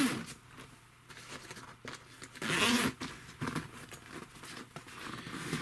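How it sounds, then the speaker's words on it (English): Dual zipper on a fabric worm composting bin bag being pulled open, faint rasping zipper runs with soft rustling and a louder burst midway, no talk. "So again, we've got this dual zipper system."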